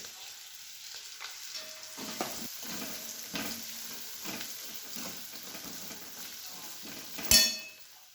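Spices with chili powder, turmeric and salt frying in oil on a low flame for stuffed eggplant bhaji, a soft steady sizzle with occasional stirring scrapes and a sharp clatter near the end.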